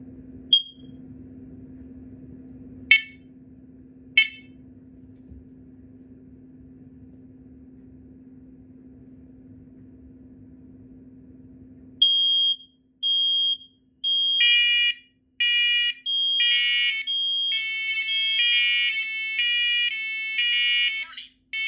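Smoke and fire alarms from a collection, including an SA500, are tested: a low steady hum with a few sharp chirps, then loud, close, intermittent beeping tones in irregular bursts.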